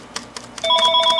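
A telephone rings, its electronic tone starting partway through and sounding in quick repeated bursts, fairly loud and close, preceded by faint clicks in a quiet room.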